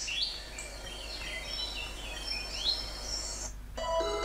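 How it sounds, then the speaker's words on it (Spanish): Synthesized birds chirping and tweeting along a route in a Pokémon fan game, a steady run of bright repeated calls layered over soft ambient game music, with a brief shift in the calls near the end. "Los sonidos de pajaritos que le puse a esta ruta están bacanes"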